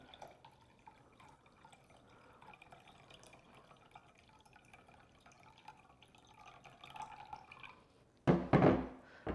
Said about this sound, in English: So we'll just carefully pour it out and measure.